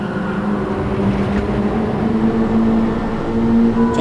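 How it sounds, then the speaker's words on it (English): Race car engine droning on full throttle in Gran Turismo 7, a steady loud hum with a rising tonal whine, no speech. "Downshift, turn the car, get on the throttle,"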